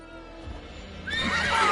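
A horse in The Witcher 3 lets out a rising whinny, loud and close, swelling over a faint game backdrop of hoof and ambient noise.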